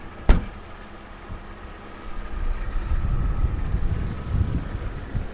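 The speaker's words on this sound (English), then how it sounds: "Engine sounds really good." Car engine idling at a Copart salvage auction lot, a low steady rumble with a brief sharp knock at the start, fairly close and moderately loud, no talking.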